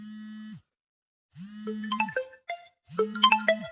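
A mobile phone rings with an incoming call. Its electronic ringtone plays short melodic phrases of bright, buzzy notes, separated by brief silences.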